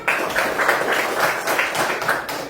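A classroom of children applauds a classmate, with a dense burst of many small hands clapping at once that stays fairly steady and close.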